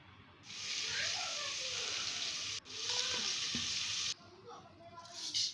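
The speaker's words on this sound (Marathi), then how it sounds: "तर आता यामध्ये दोन ग्लास पाणी टाकून घ्यायचं" Water splashes into a hot pan of upma in two bursts, erupting into a loud sizzling hiss that cuts off abruptly each time, then bubbling faintly.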